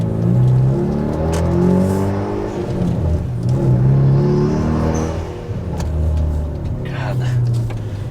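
2016 Kia Forte running on E85, its engine revving and pulling through the gears while driving on stock suspension, a loud close cabin drone rising and falling, with talk over it.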